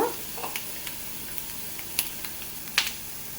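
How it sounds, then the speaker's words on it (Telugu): Peanuts sizzle in hot oil in a pan with a steady, close frying hiss and a few small crackles and pops scattered through the short stretch. "పల్లీలు అయితే వేగుతున్నాయి కదండి"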